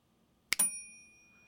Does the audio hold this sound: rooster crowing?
no